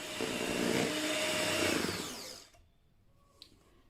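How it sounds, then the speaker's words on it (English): An electric whisk beats an ice cream base of roasted strawberry and lavender, a loud steady motor whir that runs for a couple of seconds and then cuts off, leaving near quiet with a small clink. "I'm going to use an electric whisk"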